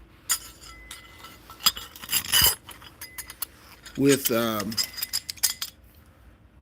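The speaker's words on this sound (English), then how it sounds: "these are two of the C clamps, or the two C clamps" Metal C clamps from a car exhaust kit are handled, with scattered clinks and jangling taps in irregular bursts, close by, while someone speaks briefly.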